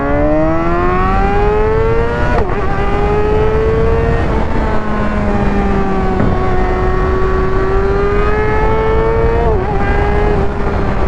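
A Kawasaki Ninja ZX-6R supersport motorcycle's inline four-cylinder engine howls at high revs past 10,000 RPM, loud and steady for over ten seconds, pitch climbing and dropping sharply at several gear changes.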